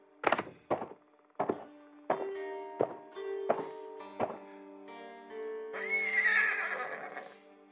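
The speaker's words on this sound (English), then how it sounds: "Miko is my horse." A horse whinnies in the Ghost of Tsushima game soundtrack after a series of heavy thunks and musical hits, the neigh rising loud near the end.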